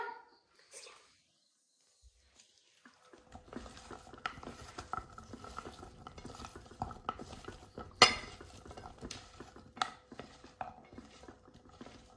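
Mango pieces with salt, chili powder and coconut oil being stirred in a bowl, with faint clinks and light wet scraping that start after a brief near-silence and continue at low volume.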